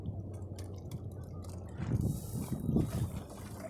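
Low motorboat engine rumble that shifts partway through into a heavier, surging churn as the boat goes into gear against a current, with water sloshing close by and no talking.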